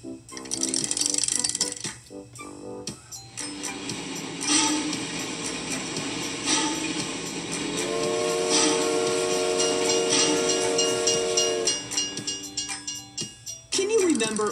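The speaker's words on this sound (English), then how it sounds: "Train!" Cartoon train sound from a children's alphabet show, with a whistle-like tonal sequence held over music and effects; a voice speaks briefly near the start.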